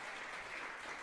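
Audience clapping at a pharmacy white coat ceremony in Anchorage, a brief, steady burst of applause from a crowd heard at a moderate distance.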